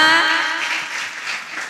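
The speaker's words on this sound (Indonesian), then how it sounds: "boleh deh tepuk tangan dulu dong untuk kita semua" An audience at a youth anemia-awareness dialogue applauds after a brief sung or spoken tone fades, a soft, even spread of clapping that continues at moderate distance.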